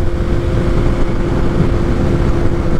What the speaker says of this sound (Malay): Aku just nak running motor.